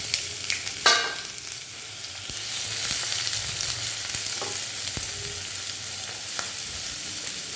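Chopped onions fry in hot oil over a raised flame, a continuous crackling sizzle with an early scrape and scattered stirring knocks from a spoon in the pan.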